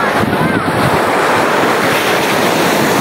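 Ocean waves wash in at Marina Beach in Chennai, a loud broadband rush of surf with wind buffeting the microphone, steady throughout with no speech.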